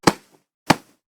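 Two punchy impacts for a Mortal Kombat 11 fight, a punch layered with cloth hits recorded by punching a shirt, land about half a second apart, each a thick, dull thump with a brief soft rustle after.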